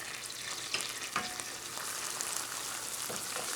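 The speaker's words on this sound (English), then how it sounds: "My garlic is almost done cooking." Garlic and onions frying in a pan, a steady soft crackling sizzle with a few light stirring scrapes, close but fairly quiet and without speech.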